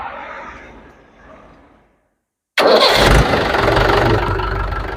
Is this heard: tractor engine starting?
yes